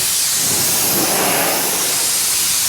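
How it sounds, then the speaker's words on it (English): Oil-based rustproofing sprayed as a blanket coat under the hood of a 2024 Ford Maverick, a loud, steady hiss of atomized spray running continuously, close up, with no talk. "So we'd kind of do just a blanket spray under the hood."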